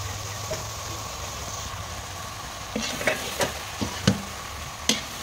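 Vegetables fried and stirred in a pan, with a steady low sizzle under a scatter of sharp scraping and stirring clacks near the end.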